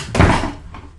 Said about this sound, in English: And shut the door, sonny